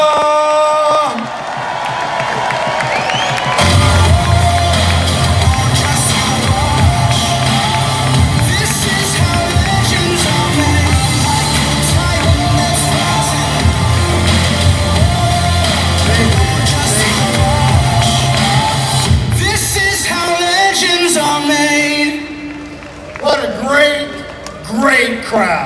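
Loud rally crowd in a political rally cheering, whooping and clapping for a congressman's introduction, a dense sustained roar that fades out near the end, with a voice then speaking over a quieter room.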